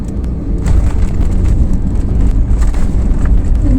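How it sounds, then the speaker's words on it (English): Passenger plane touching down and landing at Mangalore, heard from inside the cabin as a steady, loud, low roar and rumble that continues throughout with no voices. "plane just touched down."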